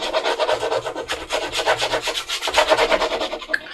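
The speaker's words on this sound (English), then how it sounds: "So right now we're just going to glue it to the flap." A paper envelope flap being glued and rubbed down by hand: brisk, repeated dry rubbing strokes in a steady back-and-forth rhythm, close and fairly loud, with no talking.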